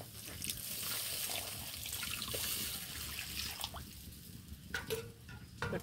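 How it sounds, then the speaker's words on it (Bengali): Water is poured into a pan of fish curry as a soft, faint trickle, with a few light clinks and splashes toward the end. "এবার আর একটু জল দিয়ে দেবো এর মধ্যে পরিমাণ মতো।"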